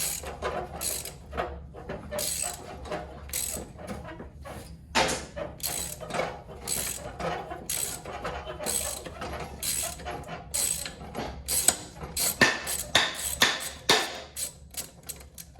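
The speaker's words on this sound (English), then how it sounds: "So, we got a few mounting bolts here. Should just be able to pull those off." A hand ratchet clicks in rapid repeated bursts, close and clear, as mounting bolts come off the rear end of a 1981 Murray race mower, with metallic tool knocks between runs and no talking.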